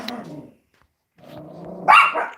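A dog barks and growls close by in short bursts, a low grumble first, a pause, then a sharper loud bark to finish.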